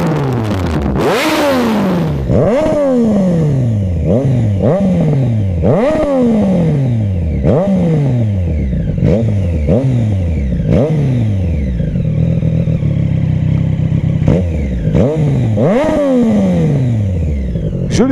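A 2019 Triumph Street Triple 765 RS with an SC Project SC1R carbon silencer, baffle removed, revs hard again and again, each rev climbing to a sharp peak then falling away, with a throaty exhaust note up close.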